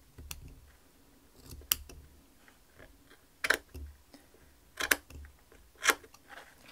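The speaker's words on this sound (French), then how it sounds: "Moi je vais les couper en laissant quelques millimètres." Scissors snipping thread ends on a woven wool necklace, several sharp close cuts spaced irregularly, some in quick pairs, with quiet handling noise between them.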